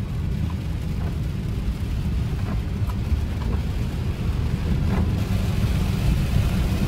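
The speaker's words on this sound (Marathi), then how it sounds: "तर पाऊस तर मुसळधार पडतोय" Heavy monsoon rain drums steadily on a car moving along a road from Mumbai toward Konkan, a dense continuous wash with low road and engine rumble beneath and occasional sharp drop impacts, with no voices.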